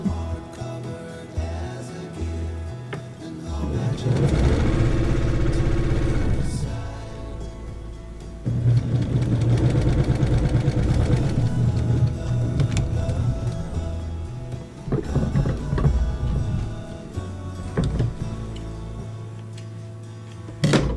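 A sewing machine stitches a quarter-inch quilt seam in bursts of rapid whirring, starting, pausing around the middle and resuming, close by with light handling noises between runs.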